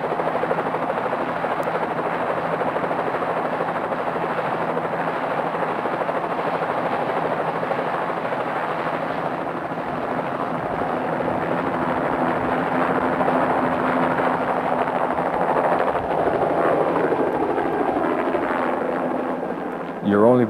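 A helicopter used to collect seeds from forest trees flies continuously overhead, its rotor throbbing and engine whining in a steady, loud drone for the whole stretch.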